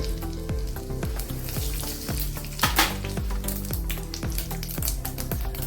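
Cumin and mustard seeds crackling in hot oil in a heated pan, a busy sizzle with sharp repeated pops and a brief louder burst midway, with no talk.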